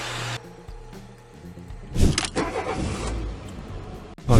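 An Audi Q7 with 450,000 km on it cranks and fires up: a quiet hum first, then a sharp starter whirr that catches into a rising engine roar before settling into a steady idle, close by.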